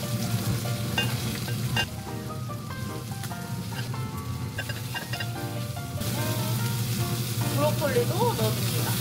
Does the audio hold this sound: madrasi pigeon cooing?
no